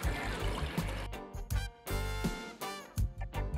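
Cold tap water pours into a soup pot in a kitchen, a gushing, splashing stream that comes in uneven surges with short breaks.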